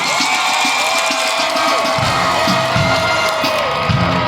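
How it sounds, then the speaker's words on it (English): A stadium crowd at a high school football game's half-time show cheers and whoops for a few seconds, a loud broad roar of many voices that swells and carries across the stands. "give a round of applause"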